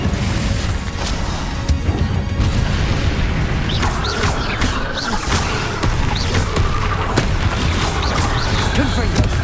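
A Confringo spell is cast in the video game Hogwarts Legacy, with fiery blasts and crashing impacts amid dense combat noise, overlapping bursts in quick succession.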